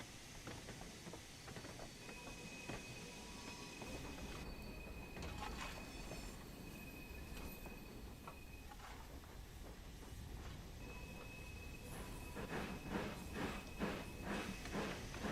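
Steam locomotive rolling downhill in the Train Sim World game, with a steady broad rumble and hiss of rail running, squealing wheel tones and occasional clanks throughout, fairly loud and without talk.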